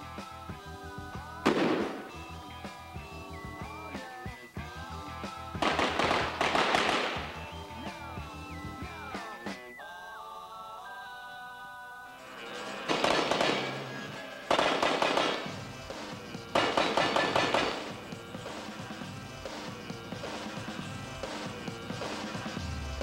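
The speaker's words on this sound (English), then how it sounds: "let's stop talking and let's start shooting." Gunfire from an army shooting team blasting at steel plates on a range: several loud bursts of rapid shots in separate volleys, with clanging impacts and ringing between them and no talking over the shooting.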